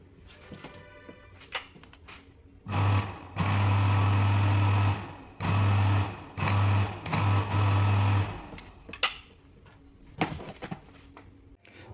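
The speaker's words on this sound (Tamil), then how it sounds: "பம்ப் ஆன் பண்ணுறதுக்கு முன்னாடியே ஒரு நோலோடு ஒரு வாட்டி செக் பண்ணிடலாம்." A 0.5 hp monoblock water pump runs with no load in several short bursts, a steady low hum that switches on and off about five times over several seconds, close and fairly loud, with quieter clicks and handling noise between runs.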